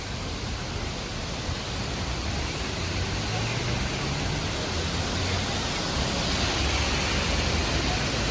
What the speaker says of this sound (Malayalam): വളംചാങ്ങാനത്ത് അങ്ങനെ വെള്ളച്ചാട്ടം ആരംഭിച്ചു കേട്ടോ